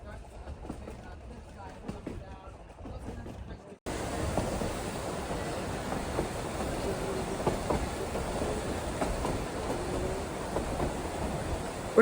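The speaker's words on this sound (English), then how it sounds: "This area is accessible by train only." A train rolls through Colorado's largest wilderness area. A quieter rumble shifts abruptly into a loud, steady roar with clattering, like wind and track noise from an open car, continuing without pause.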